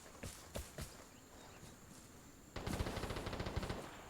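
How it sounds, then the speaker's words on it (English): Light machine gun fire in the video game Vigor, on the Fiskee Fabrikk map: a few separate distant shots, then a sustained rapid burst of automatic fire that rattles on steadily for well over a second. "Somebody's using an LMG."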